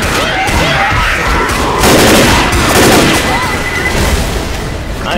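A pipe bomb going off in the co-op zombie shooter Left 4 Dead, a loud sustained roar of blasts and gunfire filling the whole stretch, dense and chaotic with no clear pauses.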